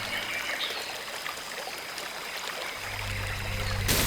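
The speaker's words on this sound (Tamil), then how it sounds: "அப்பா, எவ்வளோ பெரிய அருவிடா." A large waterfall rushes steadily, a broad continuous wash of falling water heard up close throughout, with no talking.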